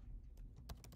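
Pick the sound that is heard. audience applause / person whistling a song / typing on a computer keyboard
typing on a computer keyboard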